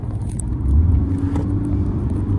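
Interior of a 2024 Kia Sonet facelift HTX diesel automatic accelerating in eco mode, a steady low engine drone and road rumble that swells slightly, no talking.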